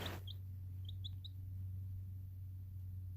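Young chicks give a few faint, short high chirps in quick succession over a constant low electrical hum, likely from a brooder heater or fan indoors.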